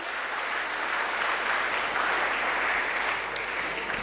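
An audience at a stage show claps for a teacher, an even, continuous wash of applause, moderately loud and somewhat distant, with no voices standing out.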